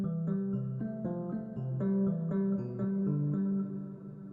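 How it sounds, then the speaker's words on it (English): A soft, mellow electric piano plays a gentle sequence of chords and notes, warm and even in volume, with no voices. "So we start off with the electric piano"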